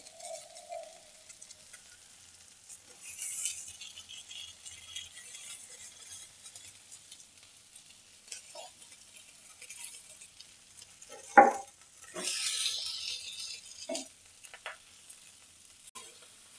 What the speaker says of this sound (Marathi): आणि असे तेका मीडियम गॅसीचेर भाजू दवरया।